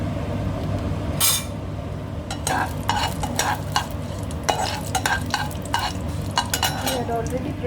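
Masala with red chilli, mace and mustard seeds frying and sizzling in a pan for Hyderabadi eggplant salan, a steady close hiss broken by repeated sharp scrapes and clinks of a spoon stirring against the metal.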